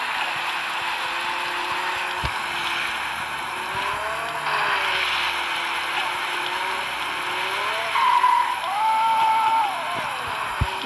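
Game car engine droning steadily, with pitch rising and falling as it accelerates and slides, plus a few sharp clicks and knocks, heard alone with no talk.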